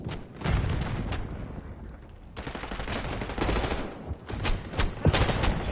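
Rocket launches and rapid gunfire blast through a Black Ops 6 Zombies match, dense explosive bursts pounding over several seconds with a brief lull midway, loud and close.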